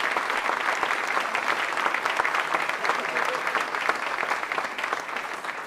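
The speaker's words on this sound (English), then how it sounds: "Let's give him a round of applause for the great work he does." Audience applause at a governor's green energy announcement, a steady, dense wash of clapping from a sizable crowd that holds evenly for several seconds.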